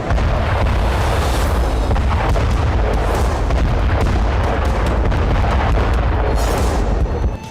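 Israeli airstrikes on southern Lebanon at night produce loud, continuous rumbling explosions with repeated heavy booms and blasts that roll together for several seconds, with no voices.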